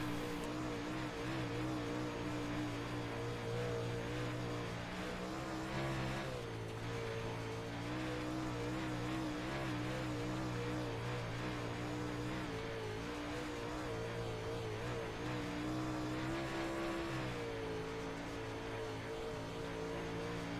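UMP modified race cars roaring around the Knoxville Raceway dirt oval in a season finale, engines droning loudly and continuously with rising and falling pitch as the pack circles, no voices over the racket.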